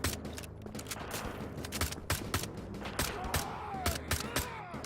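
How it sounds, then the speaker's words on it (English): Heavy machine gun fire from the video game Wolfenstein: The Old Blood rattles in rapid, sharp bursts of closely spaced shots, loud and nearly continuous with brief pauses between volleys. "I have a heavy machine gun now"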